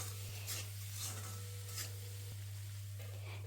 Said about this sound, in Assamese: ঢাকন দি ভাজিছোঁ, যিহেতু জুইটো কমোৱা আছে